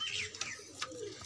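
Chinese pigeons cooing softly at close range, a few brief gentle calls with faint chirps in a quiet loft.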